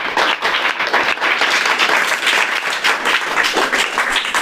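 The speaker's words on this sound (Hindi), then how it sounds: "उनके लिए भी दोनों के लिए जोरदार ताली बजाएं" Loud, dense applause from parents and teachers at a school project-based learning chaupal in Bihar, sustained steadily throughout with no voices over it.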